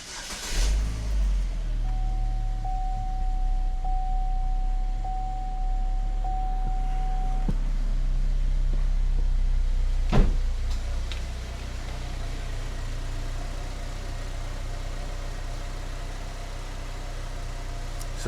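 A 2012 GMC Terrain with a 2.4L engine cranks briefly and starts, then idles steadily with a low hum after a PCV hose repair, with a faint whine early on and a small click partway through.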